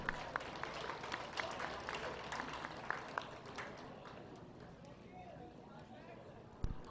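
Scattered clapping from a crowd at a junior fair dairy show at the Dodge County Fair, fading out after a few seconds, with a sharp thump near the end.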